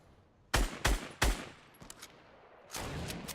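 Sniper rifle gunfire in the Fortnite video game: three sharp, loud cracks in quick succession, then a few fainter, more distant shots and a final louder burst.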